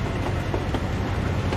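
A train rumbles steadily past in Euro Truck Simulator 2, a soft continuous roll with faint clickety-clack, alone and without talk.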